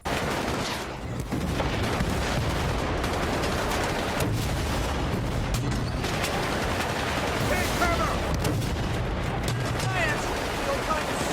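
Dense gunfire from the shooter game Battlefield Bad Company, continuous loud bursts and explosions filling the scene while someone speaks over it.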